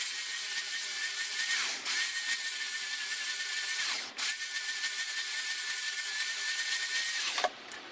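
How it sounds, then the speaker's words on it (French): An electric file sands a small trailing edge on a workpiece, a steady high whining buzz that runs continuously and dips briefly three times as the tool lifts off, close and loud with no talk. "un tout petit peu de bord de fuite à l'aide de la lime électrique qui se trouve là-bas"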